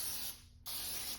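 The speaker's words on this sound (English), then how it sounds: "And I'm going to spray" Cooking spray hissing from a can into a muffin pan, two close, loud sprays with a brief gap between them.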